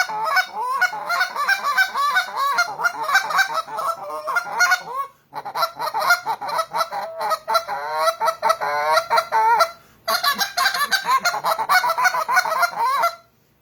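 A blue Big Kahuna goose call fitted with flex guts is blown loudly and close, sending out rapid bursts of honks and clucks in three long sequences separated by brief pauses.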